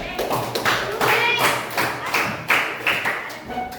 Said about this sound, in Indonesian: tepuk tangan kelasnya